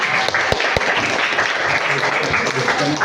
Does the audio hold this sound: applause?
yes